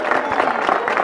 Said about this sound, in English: You can hear the crowds getting behind him.